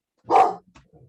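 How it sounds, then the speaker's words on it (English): A service dog gives a single loud, close bark indoors, followed by faint small sounds, with no one talking. "That was my service dog."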